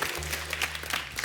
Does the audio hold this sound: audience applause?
yes